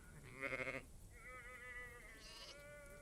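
Goats on Dissei Island, an Eritrean Red Sea island, bleat in several wavering, quavering calls, one short tremulous cry followed by a longer drawn-out bleat and a higher one, moderately close over a soft outdoor background hiss.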